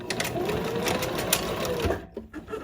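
A sewing machine back-stitches the ends of a floral placemat with a rapid, steady mechanical whir that stops abruptly near the end.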